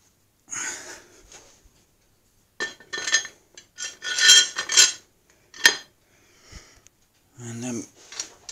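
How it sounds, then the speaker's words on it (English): A lid set onto a custom-made 2 in 1 press gives a few sharp metallic clinks and clanks in separate bursts, close and clear, with quiet gaps between and someone breathing nearby. "Put the lid on."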